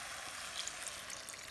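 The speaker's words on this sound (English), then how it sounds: "So, you just add in the broth." Broth poured into a 3.5 Le Creuset round enameled Dutch oven for New Orleans style dirty rice, giving a steady soft trickle and splash that runs unbroken and fairly quiet throughout.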